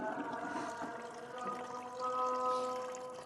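Coolant dribbling and trickling steadily out of a 2009-2014 Yamaha R1 motorcycle radiator, a thin continuous watery pour heard close up with no talking.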